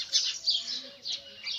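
Young pigeon chicks chirp in a series of short, high, thin calls, several brief bursts close by and fairly faint against a quiet background.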